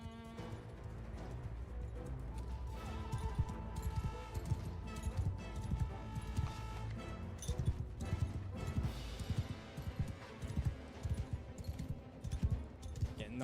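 Horse archers galloping in the Mount & Blade II: Bannerlord video game: a steady clatter of hooves runs throughout, thick and continuous, layered with battle noise and game music, with occasional whinnies and talk over it.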